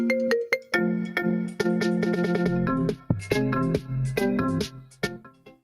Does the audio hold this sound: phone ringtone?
yes